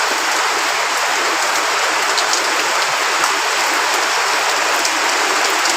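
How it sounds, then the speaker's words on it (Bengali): Heavy rain pouring at night in Fatikchhari, a dense, even hiss of downpour close by, steady and unbroken with no voices. "বৃষ্টি অনেক জোরে আসতেছে মনে হয়"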